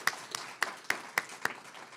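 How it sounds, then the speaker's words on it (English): Six slow, evenly spaced claps ring out at an award presentation for Fort Bend County staff, sparse and distinct over a quiet room. "So please give them a round of applause"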